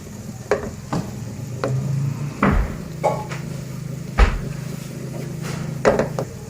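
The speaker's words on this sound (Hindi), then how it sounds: "हम स्लो फ्लेम पे हम इसको फ्राई करेंगे" Gulab jamun fry in oil over a slow flame, giving a soft, steady sizzle broken by several sharp knocks and clatters of utensils against the pan, with no talking.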